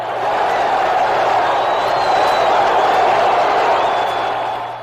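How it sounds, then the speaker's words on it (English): A Fenway Park crowd at a 1967 Boston Red Sox baseball game roars in a steady, dense wash of cheering that swells in and holds loudly for several seconds before easing slightly. "The crowd, it roars."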